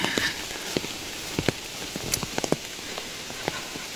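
Rain falling on a mountain path in the Qinling forest during a heavy downpour, a steady hiss with scattered close drops tapping nearby surfaces, no talk.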